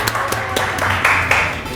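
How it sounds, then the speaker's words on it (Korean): A small group claps to welcome a guest into a home kitchen, giving a short, close burst of rapid, uneven handclaps that lasts under two seconds. "박수! 박수!"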